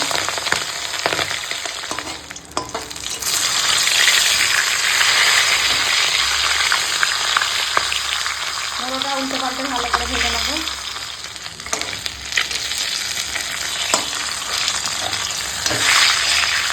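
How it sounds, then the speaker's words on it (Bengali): A catla fish head frying in hot oil in a home kitchen, a dense, continuous sizzle and crackle up close with occasional clinks of a utensil against the pan. "তেল গরম হয়ে গেছে এখন মুড়ো ভেজে নেবো"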